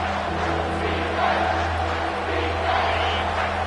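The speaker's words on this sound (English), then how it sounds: "The crowd getting behind this defense as they try to get a stop in the red zone." A football stadium crowd at a Texas A&M versus LSU game roars steadily in support of the defense during a red-zone stand, a dense, sustained cheer with slight swells and no individual voices standing out.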